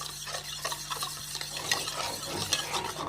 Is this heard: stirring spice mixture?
yes